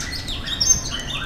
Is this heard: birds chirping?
yes